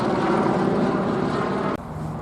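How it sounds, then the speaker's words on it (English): A gray and blue LAPD helicopter flies slowly overhead, its loud broadband rotor and engine roar filling the air before cutting off abruptly near the end. "Slow flyover of a gray and blue LAPD helicopter."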